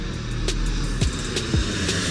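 Steady low broadband roar of a passenger aircraft cabin in flight, a constant hum with a couple of brief soft thumps, with no talking.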